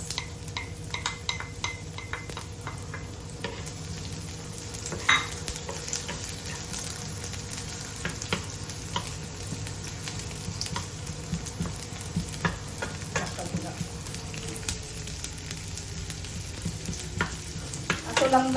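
Onions, with garlic, fry in a pan until translucent for a mung bean dish, giving a steady low sizzle with frequent light stirring scrapes and taps close by, and no voices.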